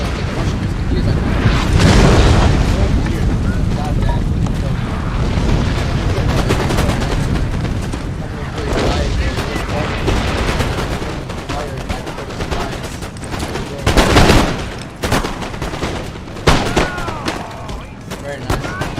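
Russian musketeers fire in a Total War: Napoleon battle, a dense, loud, continuous crackle of musket volleys and booming gunfire that rolls on throughout, with sharper surges of shots now and then.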